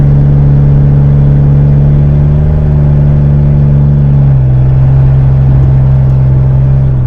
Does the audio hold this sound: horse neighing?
no